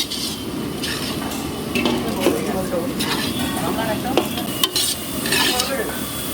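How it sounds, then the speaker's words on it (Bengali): Battered eggplant fritters (beguni) fry in hot oil during Saraswati Puja cooking, giving a close, steady sizzle broken by the scrape and clink of stirring against the pan, with faint voices in the background. "আমি এখানে গরম গরম বেগুনি ভাজছি।"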